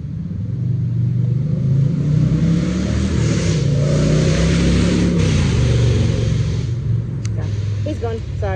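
A motorbike passes on a noisy street, its steady engine rumble loud and close for several seconds before fading, with a voice speaking briefly near the end.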